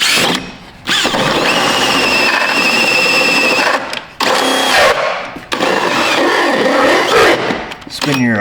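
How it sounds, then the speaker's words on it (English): Hole saw spun backwards by a power drill, cutting through plastic on a rusted-out Chevrolet, giving several bursts of whirring and grinding with squealing friction, broken by short pauses, close to the listener. "Spin your hole saw backwards. Get it right through the plastic"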